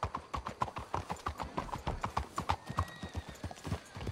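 Horses' hooves clip-clop steadily in Red Dead Redemption 2, a brisk regular rhythm of close, crisp hoofbeats on hard ground that keeps going throughout.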